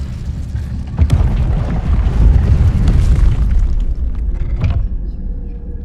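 An Incendio fire spell erupts in a Harry Potter video game, a loud rumbling burst that swells and roars for several seconds, with a sharp crack near the start and another flare toward the end.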